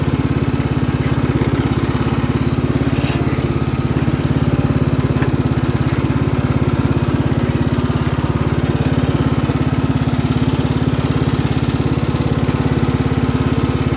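Small ride-on lawn mower tractor with its mower deck removed, rolling slowly in low gear over bumpy ground, its engine a steady, loud, close droning hum throughout with no talk.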